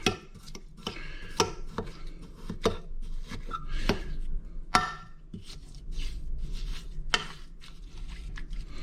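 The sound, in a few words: fork stirring and scraping frozen granita into slush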